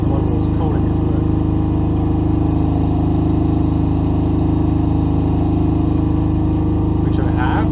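A Fairymann generator engine built into a vehicle drones with a steady hum at close range, with a low rhythmic throb underneath and faint scattered clicks on top.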